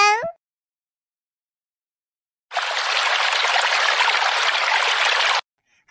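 Water being poured out in a steady, close, loud splashing stream lasting about three seconds, preceded by silence and a brief vocal sound at the start.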